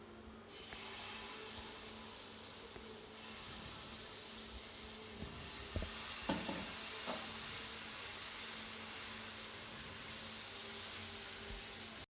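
Semolina and vegetable uttapam batter poured onto a greased hot pan, giving a steady, close, loud sizzle with a few soft scraping knocks partway through.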